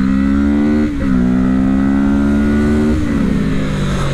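A motorcycle engine revs up close and loud, pitch climbing smoothly with two brief shifts in between.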